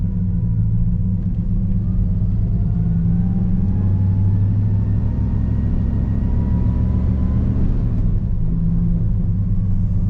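A 1996 Dodge Ram with a swapped 5-speed transmission pulls through its first gears, a heavy engine rumble carrying a faint rising gear whine.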